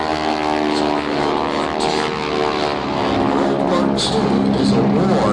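A Boeing Stearman biplane flies at a warbird airshow, its propeller engine droning loud and steady throughout with a slight rise and fall in pitch.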